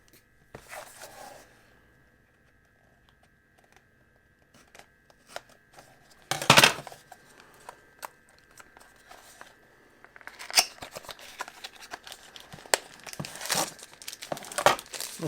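A sealed Mi Band 5 box is cut open: quiet, close snips and crinkling of plastic wrap, scattered rustles and scraping that pick up in the second half.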